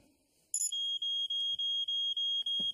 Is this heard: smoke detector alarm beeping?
yes